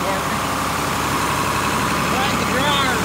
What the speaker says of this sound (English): I'm getting the tractor